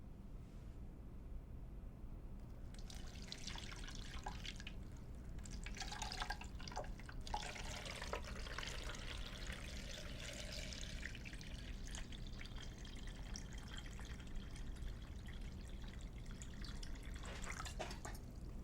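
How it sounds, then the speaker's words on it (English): Water pours steadily into a Vitamix blender container over cabbage wedges, a continuous close splashing trickle that runs unbroken from start to finish with no talk. "Now cover the cabbage with enough water so that they float off the blades."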